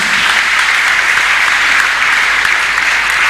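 A church congregation applauds and cheers for Jesus, loud dense clapping mixed with shouts filling the room and holding steady for several seconds with no speech over it.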